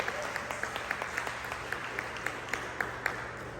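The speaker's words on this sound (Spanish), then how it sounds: "Den un fuerte aplauso a Dios, ¿verdad?" A church congregation applauds together during a sermon, a steady wash of many hands clapping at moderate distance with faint rhythmic accents and a low hum underneath.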